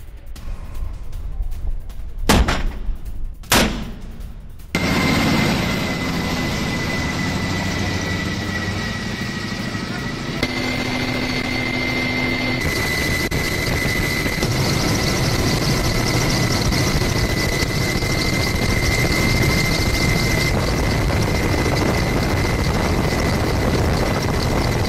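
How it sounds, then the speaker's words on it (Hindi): Russian Pacific Fleet war drill: a few sharp gunfire-like bangs open the scene, followed by a loud, steady helicopter or aircraft engine drone with a whining tone that continues close and unbroken. "रूस की पैसिफिक फ्लीट की वॉर ड्रिल सामने आई है।"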